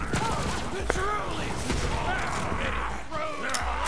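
A player's own gun firing in Borderlands 3, a steady stream of shots blended with chaotic game effects and whistling tones, with a voice talking over it.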